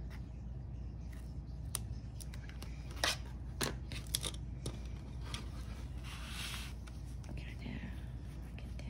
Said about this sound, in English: And I'm going to trim that off.